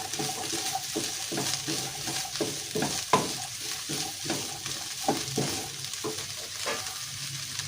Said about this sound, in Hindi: इन सब चीज़ों को हमने अच्छे से मिक्स करना है।